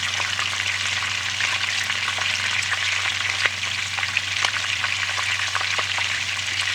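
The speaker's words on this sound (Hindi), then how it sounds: "मैं इसको तब तक फ्राई करूँगी जब तक कि जो सब्जियों का कच्चापन है वो निकल जाए।" Vegetables stir-frying for Korean-style chow mein, a dense, loud, unbroken sizzle with faint scraping from stirring, close and steady throughout.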